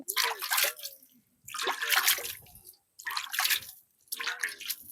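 Water poured from a container onto soil around a freshly planted papaya seedling bedded with compost, falling in four separate bursts of splashing and trickling with brief pauses between them, close by and fairly loud.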